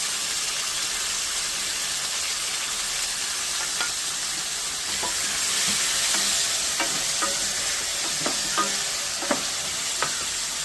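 Tomatoes and fenugreek seeds sautéing in sesame oil for a trevally fish head curry, a steady close sizzle with scattered light stirring clicks throughout.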